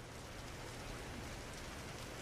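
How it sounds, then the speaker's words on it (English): Steady rain in the video game Trails in the Sky, a soft even wash of falling drops with no breaks or voices, low in level throughout. "It's starting to rain."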